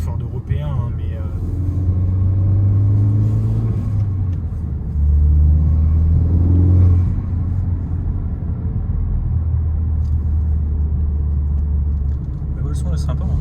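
Cabin rumble from the 2.0-litre, 250 hp Ford Focus ST estate, a steady low drone from inside the car that swells briefly midway, heard under ongoing conversation.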